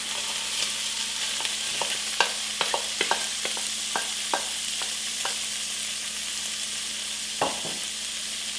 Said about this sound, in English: So I'm just going to go ahead and put in the poblano pepper and the leeks.